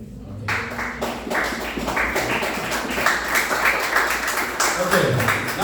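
Students in a junior high school class rehearsing the Holy Eucharist in English clap their hands together in a steady, dense patter that lasts several seconds, with voices talking over it.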